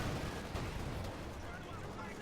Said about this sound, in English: Mortar carriage getting a nice hit.